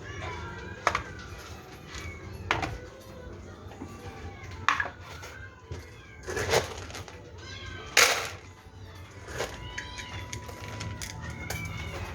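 Several cats meow repeatedly at close to mid range, overlapping cries scattered over a quiet background with occasional clatter, as they wait to be fed.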